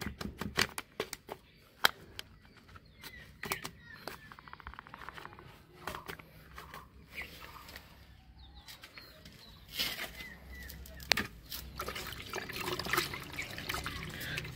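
Water mixed with antifungal powder poured for adenium seedlings, faint intermittent trickling and splashing amid scattered handling knocks and rustles, with bird sounds in the background outdoors.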